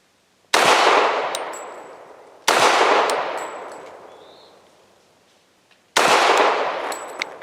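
Three loud, sharp pistol shots from a Century Arms Centurion firing Speer Gold Dot 230-grain rounds, spaced a couple of seconds apart, each ringing out with a long decaying echo outdoors.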